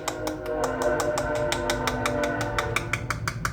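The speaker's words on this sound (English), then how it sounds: "And here comes a train, so hopefully you can still hear me." A passing train gives a loud, steady rumble with a regular rhythmic clatter of sharp knocks and a sustained metallic ring, and no one speaks.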